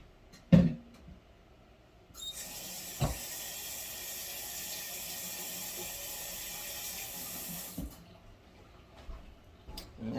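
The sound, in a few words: water running in a kitchen sink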